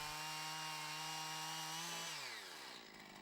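A Jonsered chainsaw cuts into the side of a tree trunk during a felling cut, its loud, steady high-revving whine holding at full throttle and then dropping in pitch as the chain bogs into the wood.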